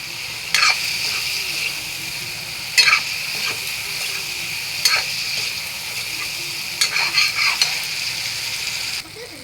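Paneer pieces frying in oil in a pan, a constant bright sizzle with several sharp scraping strokes of a spatula at irregular intervals, close and fairly loud.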